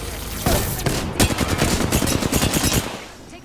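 Video game gunfire bursts out in a loud, close fusillade, a short burst followed by rapid machine-gun rattling that runs for about two seconds before dying away, with a voice briefly heard amid the shots.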